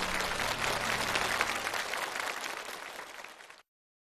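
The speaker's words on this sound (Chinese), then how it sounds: "让我们用热烈的掌声欢迎陈重庆进入荣誉殿堂。" A studio audience on a Chinese TV challenge show bursts into warm, sustained applause, a dense crowd clapping that tapers slightly before stopping abruptly.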